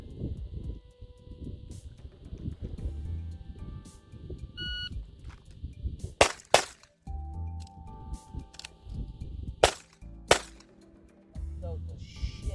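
Two pairs of sharp, loud pistol shots from a Walther PDP Pro Full Size fitted with a Herrington Arms compensator, split by a brief pause for a reload, over a steady background hum.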